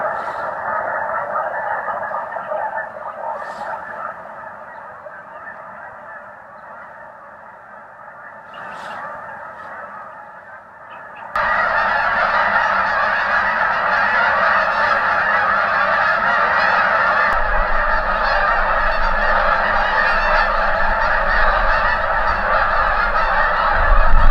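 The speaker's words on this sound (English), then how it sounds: "Listen to all them geese." Many geese honking continuously in a loud, dense chorus, with scattered distinct calls early on before the flock noise swells and stays strong.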